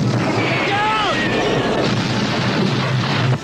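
Cannon fire from a 1983 pirate adventure film set at sea, a dense, loud booming roar under a music score that runs continuously without letup.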